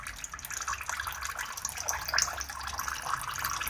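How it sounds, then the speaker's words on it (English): Engine oil from a loosened oil filter on a Fiat Fullback trickles into a catch bucket, a steady, continuous pouring splash with no speech over it. "We're just going to loosen our oil filter off and catch the first remnants of what drips out in our bucket."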